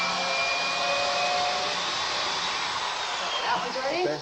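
A power drill whines steadily and close while pre-drilling screw holes through a bathroom cabinet rail into the wall studs, with a continuous buzzing motor tone over several seconds.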